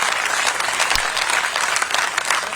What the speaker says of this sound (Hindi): ताली बजा के हाथ ऊपर भी